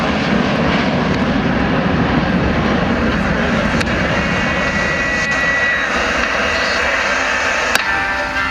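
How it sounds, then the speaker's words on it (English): Fixed-wing aircraft making a clean low-speed pass with power up at the RNZAF 75th Anniversary Airshow at Ohakea, New Zealand: a loud, steady engine roar held close for the whole stretch, broad and unbroken. "This will be our clean low-speed pass. A nice power up."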